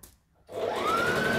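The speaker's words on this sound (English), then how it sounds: "Oh no, I'm still stitching." A sewing machine starts up after a brief silence and stitches in a steady, rising motorized whir, close and moderately loud.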